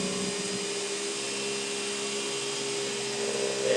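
Beast'O'Matic Mark III vacuum cleaner running with its power nozzle attached, a loud, steady, whining motor drone that holds constant throughout, with no talking.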